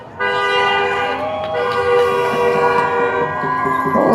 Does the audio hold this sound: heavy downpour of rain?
no